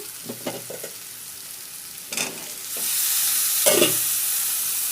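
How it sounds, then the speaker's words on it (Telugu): Cut okra, some of it overripe and a couple blemished, drops into a hot pan and bursts into loud sizzling, with a second surge of frying after a few scrapes of stirring, building to a steady hiss. "నేను ఇప్పుడు బెండకాయలు కట్ చేసుకున్న బెండకాయలు వేసేస్తాను"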